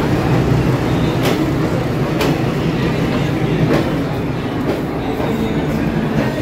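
A long-distance passenger train bound for Kalka rolls along the rails, heard from inside a sleeper coach as a loud, constant rumble with periodic sharp clacks from the wheels over rail joints.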